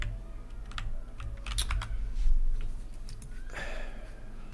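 Someone types on a computer keyboard nearby, producing irregular clusters of sharp key clicks with short pauses between them, ending in a final flurry of taps.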